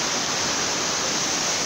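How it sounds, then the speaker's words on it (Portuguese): Cachoeira da Penha waterfall near Paraty roars with a constant, loud, hissing rush of falling water, an unbroken wall of noise with no voices. "Gente, dá uma olhada nessa cachoeira."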